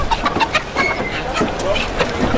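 Live chickens cluck and squawk at a busy market, close and fairly loud, with chatter and crowd noise mixed throughout.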